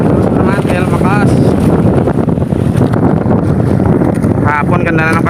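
Strong wind buffets a small lobster fishing boat at sea, roaring loudly and continuously across the microphone while someone talks over it in bursts.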